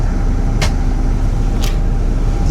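Steady low rumble of a coach's engine and road noise from inside a bus on the Muscat to Dubai route, with air conditioning running and two brief hissing bursts over the continuous drone.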